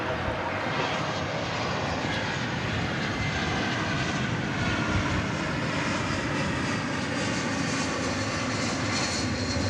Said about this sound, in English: It's an Airbus A321 coming in